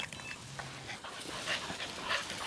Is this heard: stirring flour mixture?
no